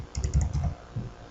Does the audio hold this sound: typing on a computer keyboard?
yes